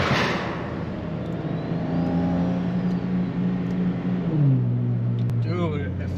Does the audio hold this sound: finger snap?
no